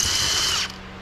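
A half-inch drive impact gun works a transmission bolt on a MINI Cooper, a loud close mechanical rattling burst lasting most of the moment, then cutting off abruptly into a low steady hum.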